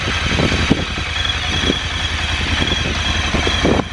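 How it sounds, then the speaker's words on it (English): A 1200cc air-cooled V-twin motorcycle engine idles from cold, a steady low rumbling throb with an even loping pulse, close and fairly loud throughout. "So if you can find a quieter 1200cc air-cooled V-twin than that, starting from cold"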